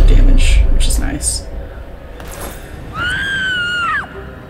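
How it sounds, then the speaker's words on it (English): A distant scream from down a corridor in the Arkham Horror video game, a wavering high cry rising over a dull rumbling background near the end, after some earlier muffled noises. "That scream is coming from down the corridor."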